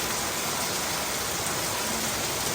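Steady rain falls behind a house in Vientiane, Laos, a dense, even hiss that holds at the same level throughout with no voices over it.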